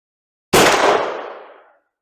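A single muzzleloader rifle shot cracks out loud and close, its heavy blast trailing into a decaying echo over about a second, alone with no talk.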